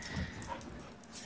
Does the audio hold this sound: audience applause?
no